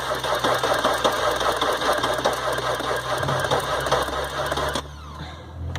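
Starter cranking an Audi 2.5 TDI diesel engine, a rapid, even mechanical chugging with metallic clicks, loud and close, stopping abruptly near the end to a quieter hum.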